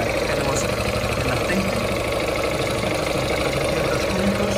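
A Yamaha TownMate 50cc four-stroke motorcycle engine idles steadily and quietly up close, a constant low mechanical hum without revving.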